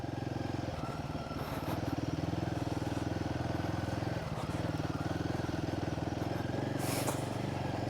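A Royal Enfield Himalayan motorcycle rides off-road, its single-cylinder engine thrumming steadily and close throughout, with rattles and clatter from rough terrain and a brief louder burst near the end.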